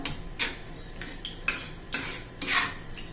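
A metal spoon stirs chili powder into onion chutney in a pan, giving a series of sharp clinks and scrapes against the vessel at an uneven rhythm, close and clear with no talking.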